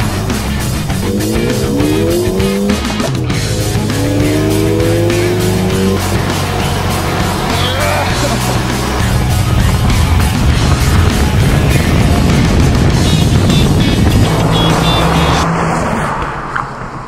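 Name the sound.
Ford Fiesta ST drag racing a Ford Fusion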